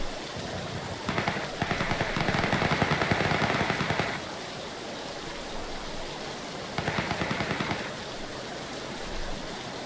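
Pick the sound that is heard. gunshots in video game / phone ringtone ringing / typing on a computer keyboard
gunshots in video game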